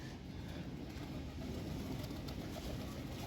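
Pigeons at a rooftop pigeon farm coo softly while being fed, their low calls faint and partly buried in a steady broadband wash of background noise.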